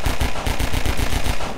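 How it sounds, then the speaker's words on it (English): Gunfire in the video game Half-Life 2 comes as a rapid, loud string of about ten pistol shots fired in quick succession with an even rhythm. "I took 7 pistol shots."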